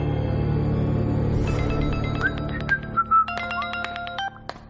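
A mobile phone rings with a melodic electronic tone that enters over a low background hum and plays a short rising and falling tune.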